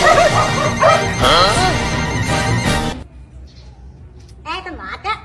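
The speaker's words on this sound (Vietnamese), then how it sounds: "nó sủa vậy thôi chứ đâu có cắn đâu" A dog barks several times in a sharp, loud burst, with a few more yelps a moment later after a pause, while people talk nearby.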